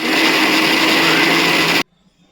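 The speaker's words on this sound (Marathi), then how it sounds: "फ्राय झाल्यानंतर मिक्सरला लावून घ्यायचे, प्युरी बनवून घ्यायची" Electric mixer grinder pureeing fried onion and tomato for chicken biryani, a loud, steady close whir running continuously and then cutting off sharply into silence.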